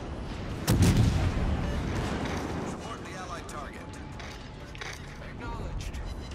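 Naval guns boom in World of Warships Legends, with a heavy blast early on followed by rumbling gunfire and battle noise, while a voice talks over the action.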